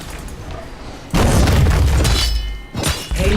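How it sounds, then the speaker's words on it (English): A game payload fires on the enemy core in the Heroes of the Storm video game, giving a loud booming blast with a crashing, shattering burst that swells suddenly and rumbles on for about a second before a second impact. "Payload firing upon enemy core."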